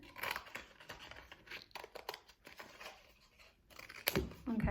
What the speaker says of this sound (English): Cut out that T with the pokey part on it.